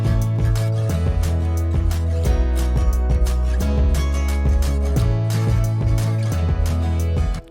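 A fluttering synth pad plays doubled chords over a deep sustained bass, with rhythmic pulsing hits throughout, steady and full at moderate level.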